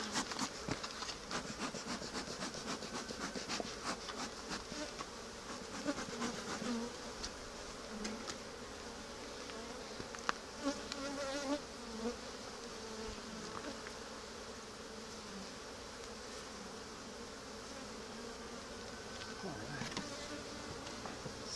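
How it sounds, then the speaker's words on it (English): Bees buzzing around an opened hive during an inspection, a constant close drone of many insects with occasional scraping and wooden knocks from handling the frames. "there's still a lot of bees up here too"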